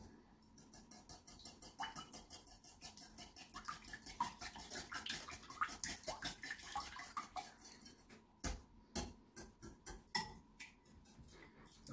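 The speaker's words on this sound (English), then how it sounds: "so now we'll just whisk that up" Whisk beating spiced rum, vanilla and other biscotti ingredients in a small, crowded mixing bowl, a fast steady clatter of ticks against the bowl, close and fairly loud, with a brief pause before the rapid strokes resume.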